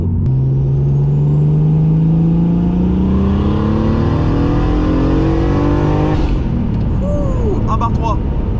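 Turbocharged BMW E36 325i running about 1.5 bar of boost, its engine revving loud and close in a rising pull, then the revs cut off sharply, leaving turbo whistle and flutter as it settles.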